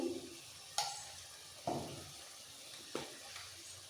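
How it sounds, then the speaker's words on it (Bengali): Spices sizzle in hot oil for a vegetarian potato and pointed gourd curry as water is added, with three sharp hissing bursts that each fade quickly over a quiet kitchen background. "সামান্য একটু জল দিয়ে দিচ্ছি মশলাগুলো যাতে লেগে না যায় তেলের মধ্যে"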